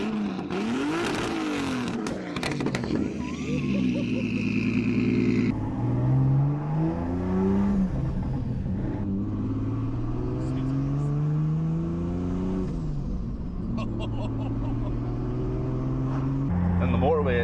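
A 520 bhp 2JZ-swapped Volvo 940 accelerates hard with the trailer unhitched, its inline-six rising through repeated revving sweeps and gear changes, loud and close from inside the car, with voices talking over it.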